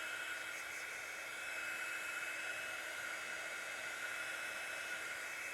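A heat tool blows steadily over craft card coated with sparkle spray, giving an even, airy hiss that holds at a constant low level without speech.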